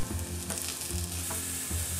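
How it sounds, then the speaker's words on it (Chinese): Mushroom slices stir-fry in a pan, a steady close sizzle broken by rhythmic scraping strokes about every three quarters of a second, with no talking. "锅里炒香蘑菇片"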